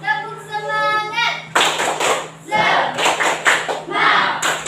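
In a classroom, a teacher's voice gives way to pupils doing a clapping chant: quick clusters of loud, close hand claps in a patterned rhythm, broken by short pauses, with children chanting along.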